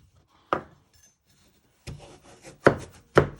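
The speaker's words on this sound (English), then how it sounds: "once you have peeled your sweet potato, you want to chop it in half, give it some force" A peeled sweet potato being chopped in half with force: a few sharp, close knife strikes against a cutting board, spaced unevenly and separated by quiet.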